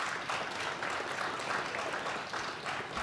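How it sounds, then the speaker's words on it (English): Audience applause at a turnpike plaza presentation for a concession services partner, a dense continuous wash of clapping held steady and moderately loud for the whole stretch. "So please give Apple Green, our concession services partner,"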